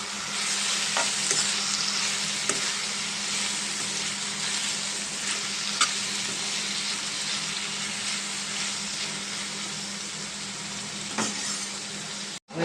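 Fried potato pieces are stirred in a sizzling pan, a loud continuous frying hiss broken by several scraping spatula strokes and ending with a knock.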